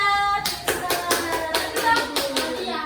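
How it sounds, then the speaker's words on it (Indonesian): A small classroom group claps for a student in a steady, rhythmic beat of about ten sharp claps, close and clear. "Oke, tepuk tangan dulu untuk Alia."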